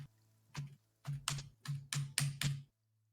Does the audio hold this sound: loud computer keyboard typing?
yes